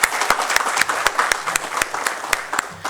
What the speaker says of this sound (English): So I would like to start with a big round of applause for everybody here.